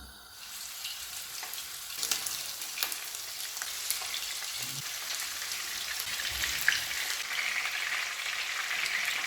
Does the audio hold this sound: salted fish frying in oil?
yes